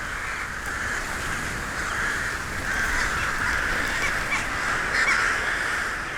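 A vast flock of crows, tens of thousands strong, caws nonstop while settling into a bamboo forest roost for the night, a thick, continuous chorus of overlapping harsh calls that swells slightly in places.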